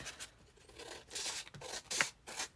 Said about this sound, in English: Oh, and then I'm just going to cut it